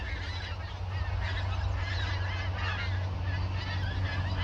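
A large gaggle of geese honks continuously in autumn, many overlapping calls at moderate distance over a low steady hum, with no talking.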